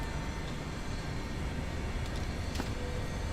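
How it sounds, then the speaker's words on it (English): Steady broadband jet engine rumble of an MD80 heard from inside the cockpit in Microsoft Flight Simulator, a continuous even drone with a few faint clicks near the end and no talking. "You can actually increase the engine noise in the cockpit slightly if you want."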